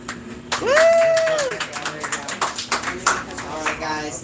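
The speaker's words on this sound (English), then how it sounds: "Applause." Tour group applauding on a Miller brewery tour in Milwaukee, with a rising whoop of cheering over scattered, lively clapping that tapers off.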